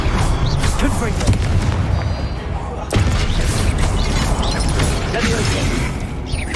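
Confringo blasting spell exploding in the Hogwarts Legacy video game, loud booming blasts with mechanical clatter, one sharp burst near the middle amid dense ongoing game noise.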